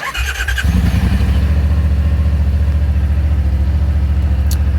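A 2022 Yamaha RMAX 1000 LE side-by-side cranks briefly and then starts, settling into a loud, close, steady idle with an even throbbing pulse.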